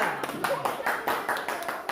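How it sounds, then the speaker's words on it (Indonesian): Classmates clap for a student group in an elementary school classroom lesson, a scattered burst of hand claps with uneven rhythm, mixed with voices talking over it. "Tepuk tangan untuk kelompok"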